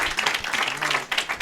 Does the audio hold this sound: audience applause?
yes